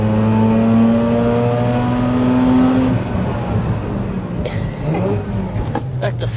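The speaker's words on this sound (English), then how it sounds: "So, steep hill, normally aspirated rotary motor." A 2003 Mazda RX-8 with a naturally aspirated rotary engine pulls up a steep hill, its engine note rising steadily and loud from inside the cabin before easing off, with a voice speaking over it.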